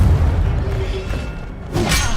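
Incendio fire spell cast in the Hogwarts Legacy video game, a low rumbling boom with a rushing whoosh, followed by a brighter burst of crackling flare near the end.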